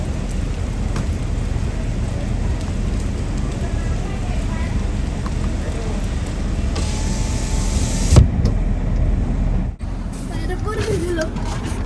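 Steady, heavy rain hisses without a break, with a single sharp thump near the end.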